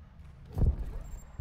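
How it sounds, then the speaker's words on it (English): Two dull, low thuds about a second apart, like nearby enemy footsteps in Modern Warfare 2's DMZ mode, over a quiet low rumble with no talk. "I'm definitely hearing footsteps"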